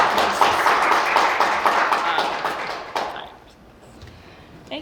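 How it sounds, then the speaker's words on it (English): An audience claps for a guest doctor at a talk on sunscreen and skin: several seconds of moderately loud clapping with some distinct individual claps, which fades out after about three seconds and leaves a quiet room with faint noise. "let's get a round of applause for Dr."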